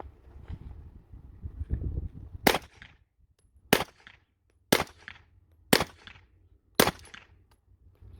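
Five suppressed gunshots from 124 grain rounds through an Annphia Precision suppressor, each a sharp loud crack spaced about a second apart outdoors, following some low rustling and wind-like handling noise.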